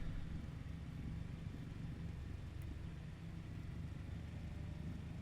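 A DC-3 engine spins up in Microsoft Flight Simulator, a steady low rumbling drone that holds an even level throughout, with no talking.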